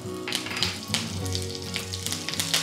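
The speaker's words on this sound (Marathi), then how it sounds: "तव्यामध्ये तेल गरम झालेलं आहे, यामध्ये सगळ्यात आधी जाईल मोहरी।" Curry leaves crackling in hot oil for a Maharashtrian tempering with mustard seeds and cumin in a pan: a soft steady sizzle broken by repeated sharp pops and spits.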